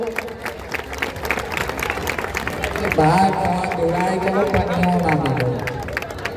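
A village crowd at a Sant Ravidas Jayanti gathering claps hands together, a steady mass of claps growing louder midway, with voices and hubbub mixed in.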